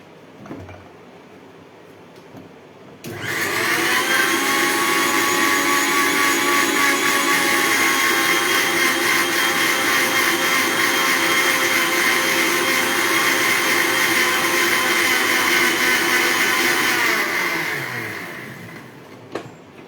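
A mixer grinder grinds ingredients in a home kitchen. The motor starts abruptly into a loud, steady whine that holds for about fifteen seconds, then winds down and stops.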